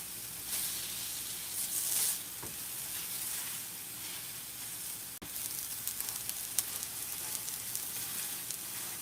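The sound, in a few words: chicken tenders sizzling on a griddle grill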